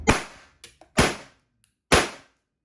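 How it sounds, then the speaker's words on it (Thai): A Kuzey M1911 Colt Government blank pistol fires three sharp, loud cracks close by, the first two about a second apart and the third after a slightly longer pause, with faint mechanical clicks in between. "กดเซฟลงยิงได้แล้วนะตัวนี้ สังเกต ประกายไฟที่ออกปากกระบอกนะครับ แล้วก็ลูกกระสุนที่ดีดออก"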